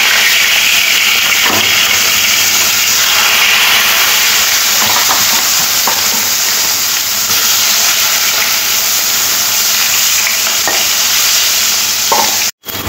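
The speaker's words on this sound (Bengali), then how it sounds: "তেলটা খুব ভালো গরম হয়ে গেলে নুন আর হলুদ মাখিয়ে মাছগুলো ভেজে নিতে হবে।" Fish pieces rubbed with salt and turmeric fry in hot oil in a kadai, giving a loud, steady sizzle with crackling pops throughout and a few sharp stirring clatters; no voices.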